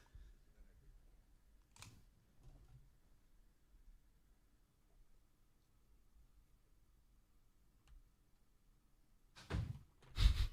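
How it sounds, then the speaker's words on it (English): A door closes on a quiet podcast recording, a pair of heavy thuds landing near the end after long near-silence with only a faint earlier knock. "when I heard the door close and nobody said anything"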